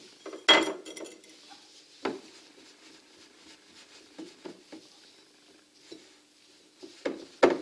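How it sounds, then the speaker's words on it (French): A spatula scrapes and taps against a bowl while melted chocolate is stirred for a cake, giving scattered clinks and soft scrapes with a sharper knock near the start and end. "Je vais finir de le mélanger."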